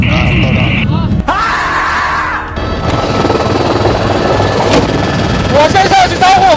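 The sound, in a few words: aircraft engine in flight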